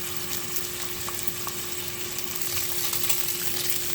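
Bacon frying in a pan for homestyle cheeseburgers, a steady close sizzle with scattered pops and crackles over a faint constant hum, no voices.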